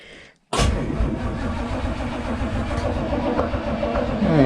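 Starter cranking a 327 engine in a 1935 Ford hot rod, a sudden onset of loud, continuous, even churning that runs without the engine catching.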